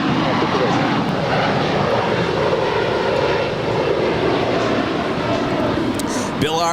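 Airliner engines droning steadily as a plane taxis toward runway 25 right at Los Angeles LAX airport, a broad constant roar heard from a distance, with a brief voice at the very end.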